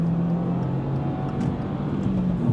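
A Subaru WRX tS with its boxer engine pulls after a downshift into third, a steady muffled engine drone with faint tonal whine heard from inside the cabin, no voices.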